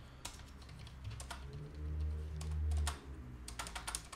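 Close-up clacking of keys on a Dell KM3322W wireless computer keyboard, irregular taps in quick bursts with a low hum swelling underneath midway.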